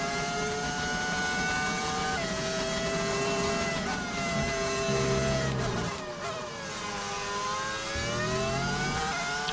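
F1 25 racing car engine with an audio mod screams continuously at high revs, pitch rising and dipping through gear shifts and corners, loud and steady throughout with no talking.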